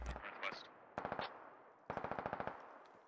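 Bursts of rapid automatic gunfire from a squad opening fire in the video game SquadOps, one short volley followed by a longer rattling string of shots, crisp and close with brief pauses between.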